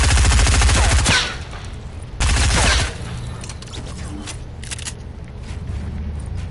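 Rapid automatic gunfire from a video game rattles in two loud sustained bursts, followed by quieter scattered shots and game effects.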